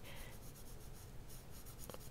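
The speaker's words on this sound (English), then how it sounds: "So use your pencil to shade it." Pencil shading on paper while drawing a 3-D blender, a steady close scratchy rasp of graphite strokes running continuously with no voices.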